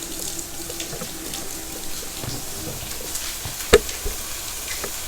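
Running kitchen tap water splashes steadily over a hand being washed, close and continuous, with a single sharp knock partway through and faint kitchen sizzling in the background.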